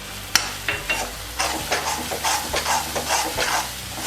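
Chopped green chillies go into a sizzling tomato masala for baingan bharta, starting with a sharp clack, then a steady frying hiss broken by rhythmic spoon strokes stirring the pan up close.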